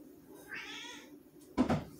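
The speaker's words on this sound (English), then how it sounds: "Little naughty kitties." A house cat meows once in a home kitchen during bread baking. The short, clear, mid-pitched mew is followed a second later by a sharp knock or cupboard bang nearby.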